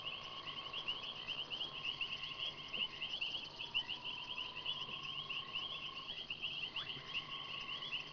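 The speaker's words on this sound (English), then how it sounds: "Now this is what we would call the rubber frog or the running frog." A rubber frog, also called the running frog, calls in a continuous high, trilling chorus at night, faint and fairly distant, with a steady even pulse under low background hiss and no talking.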